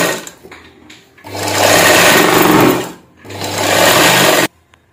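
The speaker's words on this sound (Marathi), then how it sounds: "आता आपण दाबशिलाई मारून घेऊ." A sewing machine runs top stitching along a blouse lining in two loud, steady bursts of fast mechanical whirring, separated by a short pause and followed by quiet.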